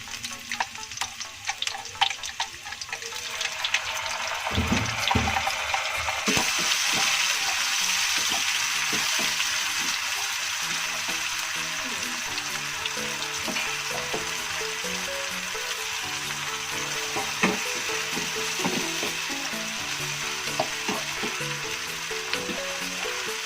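Blended spice paste for Aceh-style crab noodles sizzles in a frying pan, a steady close frying hiss with scattered pops and stirring clatter running throughout, no voices.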